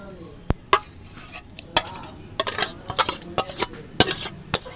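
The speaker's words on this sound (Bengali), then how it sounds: "টক দই আমি মিক্সির মধ্যে দিয়ে দেবো।" Sour yogurt being spooned into a mixer jar, with a series of sharp clinks and scrapes of a spoon against the vessel, irregularly spaced and fairly close.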